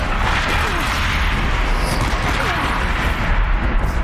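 Explosions and crashing rumble from Horizon Zero Dawn gameplay, a dense continuous loud roar of blasts and debris that fills the whole stretch.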